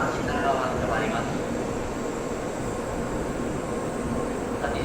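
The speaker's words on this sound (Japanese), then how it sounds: "13時23分はのぞみ26号東京行きの到着です。" A Shinkansen Nozomi 26 bound for Tokyo pulls into Okayama Station, a steady broad rumble and hiss of the arriving train filling the platform throughout, with faint voices and platform announcements in the background.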